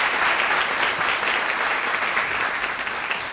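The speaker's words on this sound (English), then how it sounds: "we need a big round of applause for the people who helped set this up" Audience applause fills a white coat ceremony hall, dense steady clapping from a large crowd sustained throughout and fading only slightly near the end.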